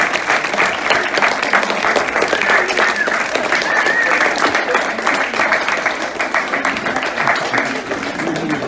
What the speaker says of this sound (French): on va lui demander de venir et on va l'applaudir très fort.